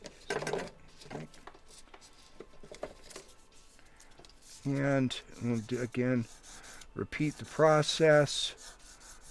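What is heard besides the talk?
sanding silver pendant with finer grit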